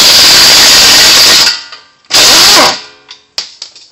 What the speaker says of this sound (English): Now I'm going to go ahead and take out the 22 mil bolt here.